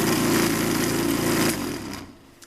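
Vibratory tumbler polishing parts on a shop bench gives a loud, steady buzzing rumble that fades as the machine is switched off near the end.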